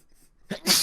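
A single short sneeze bursts out near the end after a quiet moment, close and fairly loud.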